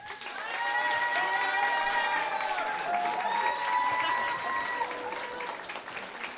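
Studio audience applauding to vote for a contestant named Simon, a steady wash of clapping with a few cheers throughout, fairly close and sustained.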